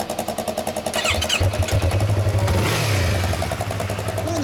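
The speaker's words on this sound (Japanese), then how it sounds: "エンジン音する" A 2015 Yamaha YZF-R25 ABS motorcycle with a stock exhaust idles with a steady pulsing beat, then revs up and settles back, loud and close.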